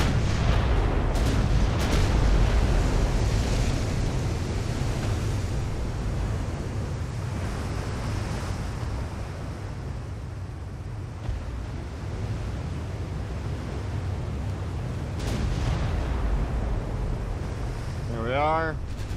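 Naval gunfire from 5.9-inch guns in the warship game Ultimate Admiral: Dreadnoughts, with heavy booming shots over a constant roar of wind and sea, continuing throughout.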